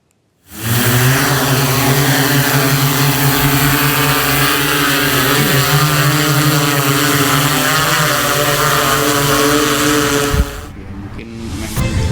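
Steady, loud whirring hum of a thermal drone flying over the flanks of Mount Semeru in Lumajang, East Java, holding a constant pitch for about ten seconds before cutting off abruptly.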